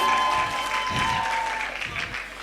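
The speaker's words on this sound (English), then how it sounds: "A round of applause for yourself" An audience at a tech academy event applauds in a dense, steady wash of clapping, with a tonal hum running beneath it.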